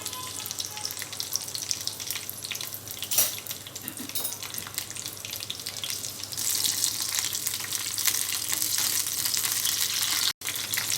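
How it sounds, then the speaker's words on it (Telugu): Green chillies frying in hot oil in a pan for pudina and ridge gourd chutney, a steady close sizzle and crackle running throughout with no voices. "ఆయిల్ వేడిన తర్వాత పచ్చిమిరపకాయలు ఫ్రై చేసుకోవాలి"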